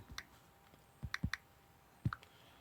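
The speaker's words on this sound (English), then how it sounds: "I'm just going to go ahead and use my stylus now to type in 1200" Stylus taps on a touchscreen while entering a number in an Arduino pfodDesigner numeric input: about four short, light clicks in two groups, close and quiet, with no talking.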